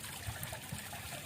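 Water after washing fish being poured out outdoors in a village, a faint, continuous trickle and splash with no talking.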